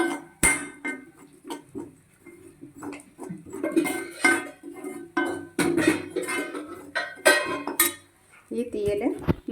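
Chili and coriander powder being roasted in a pan, with repeated scraping and clinking of a metal spoon against the pan in irregular bursts, close and fairly clear, with a voice talking over it.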